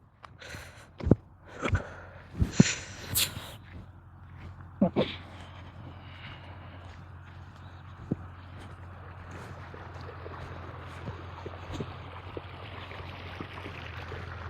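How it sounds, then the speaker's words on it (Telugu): Farm water pump motor running at a field, a steady low hum throughout with faint rushing, after a few sharp knocks and thumps early on. "మోటార్ నడుస్తుంది."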